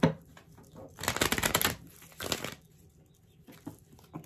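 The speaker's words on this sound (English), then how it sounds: "Four shuffles. Two more. One more." Tarot cards are riffled and shuffled in two quick bursts, close and crisp, separated by soft handling noises and quiet pauses.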